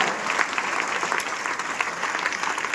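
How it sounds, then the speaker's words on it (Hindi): An audience at a school event in Lalganj applauds to welcome students, a dense, steady wash of clapping that carries evenly throughout, with no clear voices on top. "आज बड़ा अच्छा उसके उत्साह के लिए एक बार तालियों से स्वागत किया जाए"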